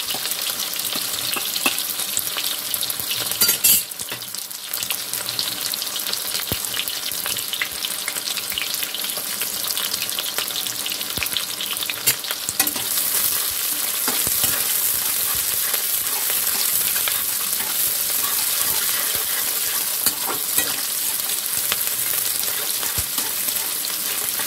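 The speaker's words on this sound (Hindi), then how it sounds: "मिर्च तेल इतने अच्छे से हो चुका है कि मिर्च डलते ही अच्छे से भून जाएंगे। अब हम डालेंगे प्याज।" Onions and green chillies fry in hot oil in a pan for chow mein, giving a loud, continuous, close sizzle with occasional stirring scrapes and clatter. No one speaks.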